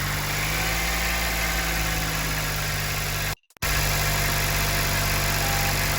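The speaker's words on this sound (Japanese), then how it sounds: "現状のエンジンはこんな状態。 メカニカルノイズが大きい。" An engine with over 110,000 km and a known abnormal noise idles in a Daihatsu Atrai Wagon, giving a steady loud mechanical clatter and hum at close range. A brief dropout breaks it midway before the same even idle resumes.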